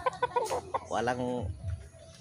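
A gamefowl rooster of Sweater breed clucks in a quick series of close, throaty notes, followed by a drawn-out crowing call and low murmurs after.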